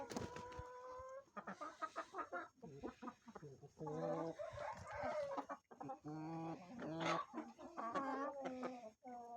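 Hens cluck busily beside a Çil Hint rooster, with repeated short calls and a drawn-out crow-like cry near the start, all close and fairly loud with no clear talk.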